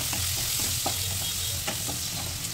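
Curry masala frying in a pan, a steady dense sizzle with soft scraping stir sounds and small pops scattered through it, close and continuous.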